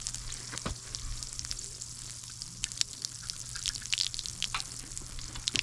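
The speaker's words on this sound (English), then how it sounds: "And pull that plug out," Water draining from a 2021 Aspen Trail 1950BH RV water system after the plug is pulled, a steady trickle with scattered drips and hiss, close and fairly quiet, with no talk over it.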